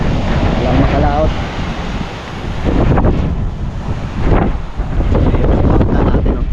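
Strong northeast monsoon wind buffeting a microphone at sea from a small outrigger boat, a loud, steady roaring rush with gusting swells and surf beneath, no clear speech.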